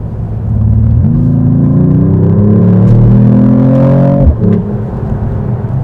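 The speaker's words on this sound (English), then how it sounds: "Let's accelerate to 80 kilometers an hour" A Mercedes-AMG E-Class accelerates hard uphill onto the Autobahn, its engine note climbing steadily in pitch through one long pull before a gearshift drops it, then rising again, loud and close from inside the cabin.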